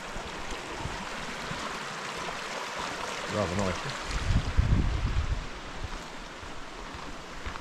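Steady broadband rush of a stream flowing near a waterfall fills the clip, with a person speaking briefly midway over the constant flow.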